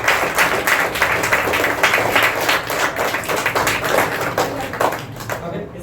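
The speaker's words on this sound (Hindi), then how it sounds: "अभी आपके साथ में हम ताली बजा रहे थे" A group claps hands together as a warm-up exercise in a stage performance class, a steady run of quick, sharp claps going on throughout with voices talking underneath.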